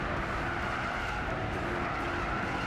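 BMW Z4 race car in Gran Turismo Sport, engine roaring loud and continuous at speed with tire noise, a dense steady racing drone throughout with no talk.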